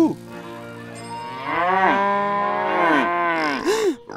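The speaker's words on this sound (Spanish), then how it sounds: "¡Allí están! ¡Vacas!" Cartoon cows moo in long, loud, drawn-out calls that overlap one after another, close and clear with no talking.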